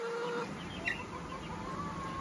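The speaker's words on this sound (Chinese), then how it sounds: "看这鸡" Chickens in a rural farmyard on a sunny morning give a few soft clucks and one sharper squawk at moderate distance, over a steady outdoor background.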